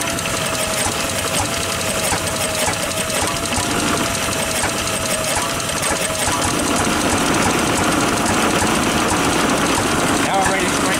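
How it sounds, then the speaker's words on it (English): Antique engine driving a generator runs with a busy mechanical clatter that grows louder and faster, a voice speaking over the noise. "We're going to speed the engine up."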